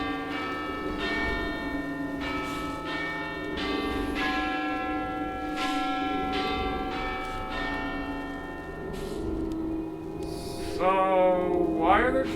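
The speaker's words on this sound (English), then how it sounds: "I'm hearing church bells!" Church bells ring steadily through a video game's surreal horror scene near a boss fight, layered peals with a swell of brighter chimes toward the end, loud and with no talking.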